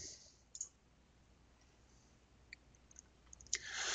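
A computer mouse being right-clicked, giving a few sparse, faint clicks over a quiet room hiss, with a sharper click and a rise in noise near the end.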